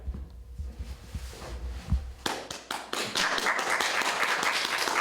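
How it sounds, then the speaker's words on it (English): Audience applause at an Eleanor Roosevelt human rights weekend event in Tivoli, a dense burst of clapping starting abruptly after a quiet pause and holding steady to the end. "And the crowd goes crazy."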